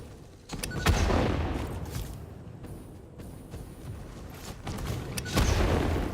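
An explosion in the factory-building game Satisfactory booms out amid a steady rumbling roar, with a few heavy thuds rising and falling and a final loud burst near the end.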